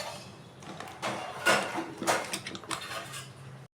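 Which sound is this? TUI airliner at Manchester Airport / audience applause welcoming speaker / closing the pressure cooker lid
closing the pressure cooker lid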